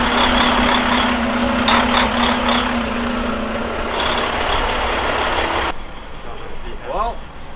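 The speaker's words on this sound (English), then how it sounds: "Got a big ass truck coming by." Big truck rumbling past on a street, its low engine drone loud and steady for several seconds before dropping away abruptly, with people talking over it.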